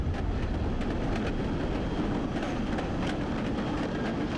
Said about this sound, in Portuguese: E então o trem partiu.